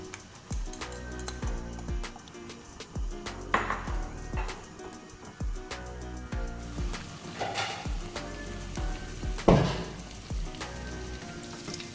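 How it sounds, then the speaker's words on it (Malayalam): Egg sizzling and frying in hot coconut oil in a pan for an onion-scape omelette, a steady crackling hiss with scattered pops and a few louder spatters, close and fairly quiet, no talking. "എണ്ണ ചൂടായിട്ടുണ്ട്. ഇനി മുട്ട അതിലേക്ക് ഒഴിച്ചു കൊടുക്കാം."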